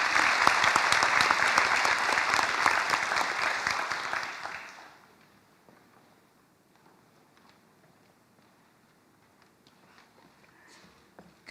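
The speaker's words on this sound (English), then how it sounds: "Please give them a round of applause." Audience at a high school scholarship ceremony applauds recipients, a dense burst of clapping for about four seconds that then fades away into near silence with a few scattered claps.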